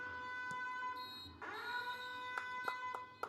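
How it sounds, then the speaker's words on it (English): An electronic buzzer sounds at a school soccer match between St. George's College and Kyle College, a steady tone held throughout with a rising sweep midway and sharp knocks near the end, with crowd noise underneath. "So there goes the buzzer."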